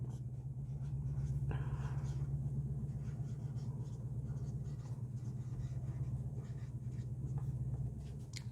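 Marker or chalk scraping across a board during a Hindi chemistry lesson on pressure and temperature, soft steady strokes heard over a constant low electrical hum.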